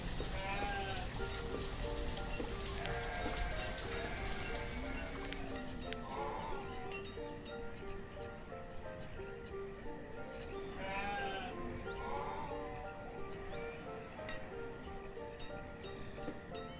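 Sheep bleating in the village-building game Banished, several wavering bleats overlapping at different distances over a steady rain-like background with game music tones, a voice occasionally talking.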